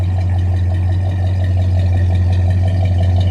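A 1969 Buick LeSabre engine idling in a steady, low, throaty rumble, smooth and unbroken, loud and close with no voices.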